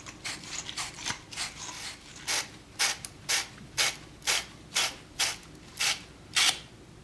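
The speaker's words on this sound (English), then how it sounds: "we can sand down the outside of our pipes and the inside of our fittings with the abrasive material" Copper pipes and fittings are sanded by hand with abrasive material, producing a steady run of about a dozen short, rasping strokes, close and fairly quiet.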